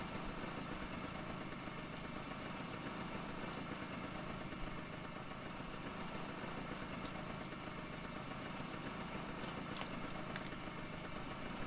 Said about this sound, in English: Let me just stop this engine because it's super loud